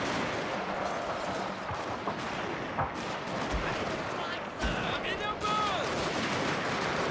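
Musket and rifle volleys from troops in the Total War: Shogun 2 Fall of the Samurai battle, sounding as a dense, continuous crackle of gunfire with a few sharper reports and low booms standing out.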